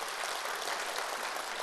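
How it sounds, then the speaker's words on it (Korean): An audience claps steadily in a sustained burst of applause, dense and even throughout. "우리 떨리시는 이분을 위해서 우리 박수 한번 쳐주세요"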